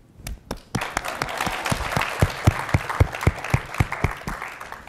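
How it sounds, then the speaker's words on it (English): A school audience of middle school students bursts into applause, dense clapping swelling quickly and holding strong and close, with a few louder individual claps standing out in a steady rhythm toward the end. "Everybody give Usman a big round of applause"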